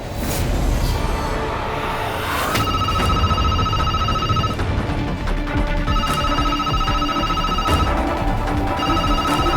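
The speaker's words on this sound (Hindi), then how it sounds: "निहार का फोन" A mobile phone ringtone rings loudly in a repeating electronic bell pattern over a busy background, each burst restarting every couple of seconds, with no talk during the ringing.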